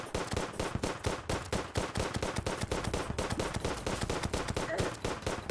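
Rapid bursts of electric gunfire from the broken Zapinator in Terraria, a dense string of sharp repeated shots running loud and steady throughout with no pauses.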